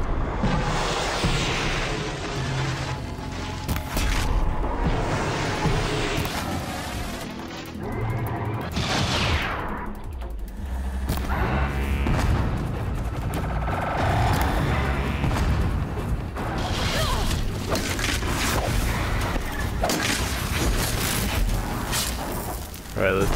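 Explosions and crashing blasts in the Horizon Zero Dawn video game, with heavy booms and rattling debris bursts repeating over a loud, busy game soundtrack for the whole stretch.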